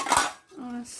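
Beaten aluminium pot lids clattering together, a quick bright metallic clash followed by a ringing lower tone as one lid settles, close by.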